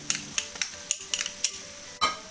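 A utensil scrapes and stirs chicken mince with ginger-garlic paste in a pan in quick, uneven strokes, close up over a faint background sizzle.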